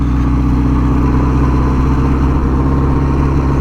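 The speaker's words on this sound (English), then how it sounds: "It's loud, so I don't know whether you're going to catch, hopefully, my voice. I'll try and keep the revs down low" A classic 'Cammy' Ariel Square Four motorcycle engine runs loud and close at low revs, giving a continuous throaty rumble with a steady pulsing beat.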